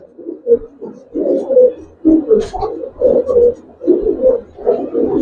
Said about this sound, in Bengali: দুইটা কবুতর দেখেন মাশাআল্লাহ